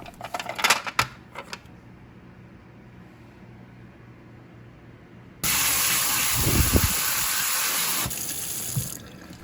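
Running tap water gushes steadily while a storage container is washed with warm soapy water in a kitchen sink, preceded by a few clattering knocks of handling and ending with more splashing and clunks.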